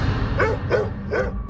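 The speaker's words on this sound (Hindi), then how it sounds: "आसपास रहने वाले कुत्ते अचानक भौंकने लगे" Three yelping dog barks, evenly spaced and moderately close, ring out in the cold night beside a Hanuman temple, with a low rumble underneath.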